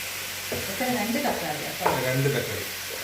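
Chopped tomatoes dropped into a pan of frying chicken karahi give a steady close sizzle with a few soft stirring scrapes and thuds, and a faint voice sits under the cooking noise.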